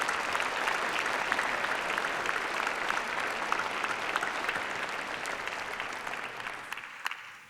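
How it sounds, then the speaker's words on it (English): Graduation ceremony audience applauding university staff at a UCLan afternoon ceremony, sustained dense clapping from a large crowd that holds steady for about seven seconds before thinning out at the end. "join me in applauding and thanking our university staff"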